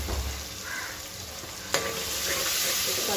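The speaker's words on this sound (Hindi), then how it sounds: "इसको अच्छा भूनूंगी" Dal seasoned with turmeric and coriander powder being sautéed for sambar, with a steady close sizzle in the pan and a single sharp scrape of a stirring spoon partway through.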